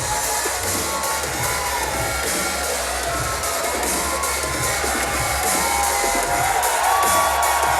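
A live wrestling crowd in the Commodore Ballroom, Vancouver, cheering and roaring in a continuous, loud, even wall of noise that swells slightly toward the end.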